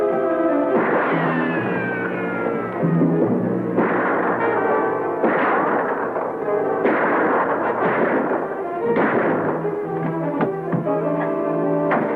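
Gunfight with rifle fire: loud, rapid reports and booming blasts overlap one another, with a ricochet-like whine, filling the scene continuously up close.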